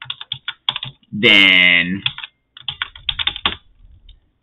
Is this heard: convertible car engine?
no